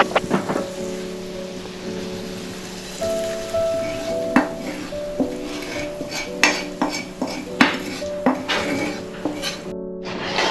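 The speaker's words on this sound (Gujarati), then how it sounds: "હવે આપણે આ ગ્રેવીને દાળિયામાં ઉમેરી દઈએ." Gravy going into a pot of green pigeon pea dal, with clinks of a spoon or utensil against metal and stirring over a steady low sizzle, busy and close with no talk.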